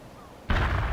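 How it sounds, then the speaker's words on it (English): A heavy artillery strike in the video game World in Conflict lands as one sudden loud blast halfway through, then sustains a rumbling roar to the end. "The artillery strike hits the enemy."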